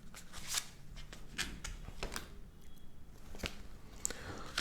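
Angel cards being shuffled and drawn for a reading, a steady close rustle of cards with crisp flicks and slides throughout, and a faint voice now and then underneath.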